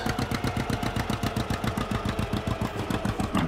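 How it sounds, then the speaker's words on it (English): A tractor engine in a farming video game idles with a steady, rapid, even chugging pulse, loud and continuous with a slightly rattly mechanical edge and no talk over it. "Like the engine sound is rather nice on these."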